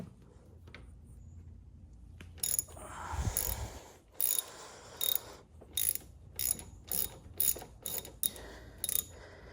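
A ratchet turns a T30 Torx screw holding down the fuel pressure regulator on a 1992-1996 C4 Corvette, giving close, crisp bursts of rapid clicking in short repeated strokes after a brief fumbling start.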